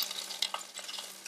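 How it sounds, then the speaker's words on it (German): Fat sizzles and spatters on chicken turning on a rotisserie spit over a grill, a close, steady crackling hiss with small irregular pops, alone without talk. "Ich weiß nicht, ob ihr schon hört, wie das Fett brutzelt und spritzt."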